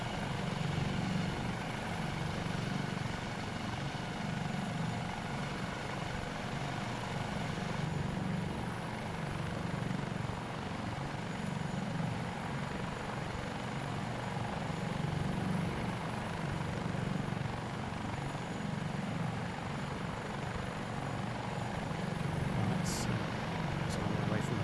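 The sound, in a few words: AS365 Dauphin helicopter flying past, Microsoft Flight Simulator video game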